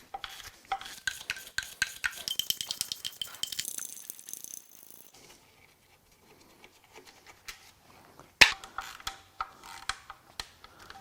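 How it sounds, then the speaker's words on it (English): Timing cover bolts come out of a BMW N63 twin-turbo V8 under a ratchet, rapid clicking bursts up close, then a quiet stretch with a sharp clank and a few scattered metallic taps. "Let's get the timing cover bolts removed."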